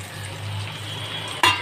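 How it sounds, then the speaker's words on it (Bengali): Tomato and green chili hitting hot oil with frying soybean, a steady close sizzle and bubbling that flares into a sharper, louder hiss near the end. "টমেটো আর কাঁচা লঙ্কাটা দিয়ে দিলাম"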